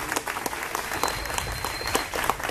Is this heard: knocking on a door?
no